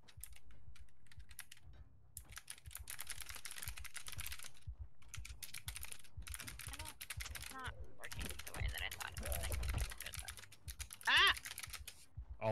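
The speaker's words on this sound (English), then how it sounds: "All I hear is Badger furiously typing." Rapid, furious clacking on a computer keyboard, quiet and continuous with short pauses, heard beneath game sounds and occasional voices during a Project Zomboid session.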